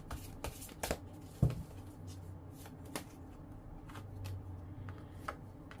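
Tarot cards shuffled by hand during a love reading, with soft riffling bursts, several crisp flicks and a sharp snap near the start, faint and close with no talk.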